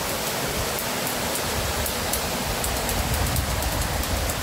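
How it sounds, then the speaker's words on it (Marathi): Spring water rises from underground in a Konkan village, making a continuous close rushing, gurgling wash that holds at an even level, with no voices over it. "खालून खालून पाणी येत आहे."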